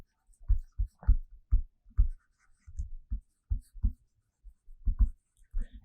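A teacher writing notes on a board during a chemistry lesson, producing short tapping and scratching strokes in irregular clusters, close and distinct against a quiet room.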